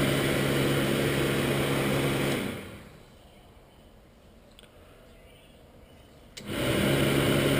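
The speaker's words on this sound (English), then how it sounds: "So that's the fan running." A 12V electric cooling fan on a Land Rover, switched through a relay, whirs loudly and steadily, stops for about four seconds, then kicks back in at full strength, close up and without talk.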